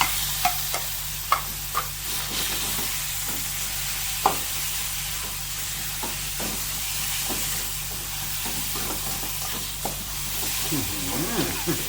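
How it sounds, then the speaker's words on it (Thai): Chicken stir-frying with chili and garlic in a hot pan for a Thai holy basil chicken dish, giving a steady sizzle with scattered scraping clicks of stirring throughout. "เอาละครับพริกกระเทียมได้ตีแล้วไก่ลงแล้ว"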